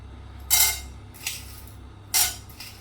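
Chana dal is tipped into hot oil in a cooking pan while making curry leaf chutney, giving a few brief metallic clinks and rattling scrapes spaced apart, close and fairly quiet.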